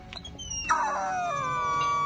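Feng, a video game character, lets out a short squeaky hurt cry like a stepped-on squeaky dog toy, a high whine that slides downward and holds, loud and alone.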